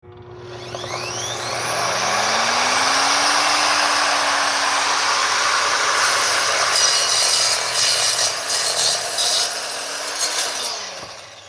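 Evolution saw cutting through a 2x6 with embedded framing nails, the motor spinning up to a loud sustained whine with gritty cutting noise and metallic scraping, then winding down after about ten seconds.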